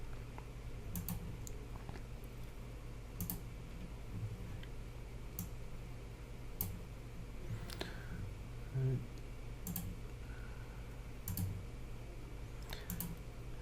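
Computer mouse clicks tap out at irregular intervals, sharp and close, in a quiet room while someone works through a building-modeling program.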